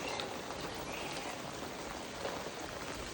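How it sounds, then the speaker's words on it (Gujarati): Steady heavy rain falling outdoors, a dense even hiss with no clear breaks throughout. "અહીંયા તો ફૂલ વરસાદ ચાલુ હોય"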